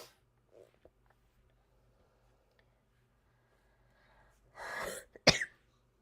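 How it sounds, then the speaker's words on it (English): A person coughs during a quiet indoor painting session: a small throat sound early on, then a loud, close burst of coughing near the end against near silence. "I will be coughing every now and then"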